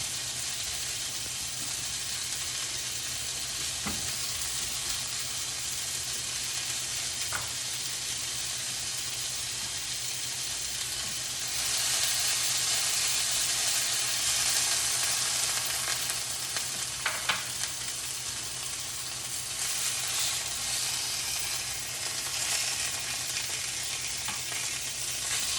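A continuous, steady sizzle of lots of vegetables frying in a big pan, with occasional faint clinks and a slight rise in intensity partway through.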